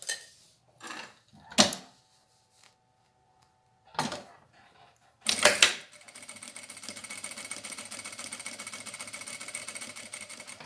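A sewing machine runs a straight seam through fabric for a rounded zip pouch, a steady close whir of rapid stitching lasting several seconds after a few sharp handling clicks and bumps.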